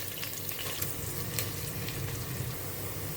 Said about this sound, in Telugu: ఇలా ఉల్లిపాయలు దోరగా వేగిన తర్వాత